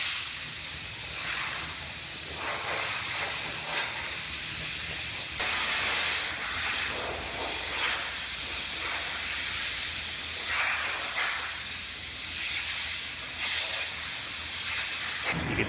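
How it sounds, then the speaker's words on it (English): A can of cavity wax sprays in a steady, close hiss inside car bodywork, broken by short pauses and bursts of stronger spray. "So this is cavity wax, and it sprays in a 360-degree pattern"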